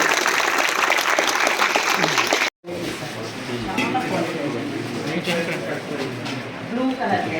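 Children in a hostel clap together in a loud, dense burst of applause that breaks off for a moment and then resumes as sustained clapping, with voices mixed in.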